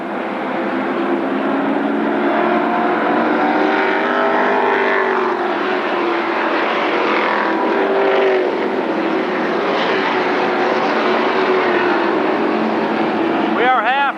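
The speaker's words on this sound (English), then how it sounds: "25 lap race for the top 20 fastest sportsman car." Sportsman stock cars racing at Berlin Raceway, a loud sustained roar of several engines passing and droning together over the full stretch, with a commentator talking over the pack noise.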